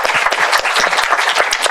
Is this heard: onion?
no